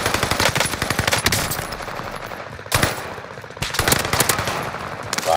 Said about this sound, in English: Yeah, you're shooting the wrong guy.